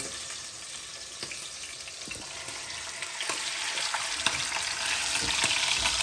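Beef shin for osso buco sears in a hot pan with a constant sizzle that grows louder toward the end, broken by small sharp pops and spits.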